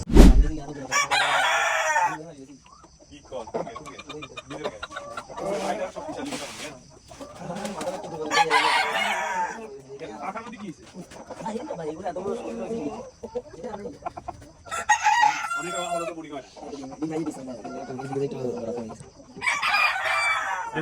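A rooster crows several times in loud bursts over steady hen clucking on a poultry farm, with someone talking at moments in between.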